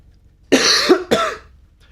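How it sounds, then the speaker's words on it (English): Two harsh coughs from a sick person, close together, loud and near, with a brief pause between them and quiet afterward. "I apologize for coughing, but I'm still sick."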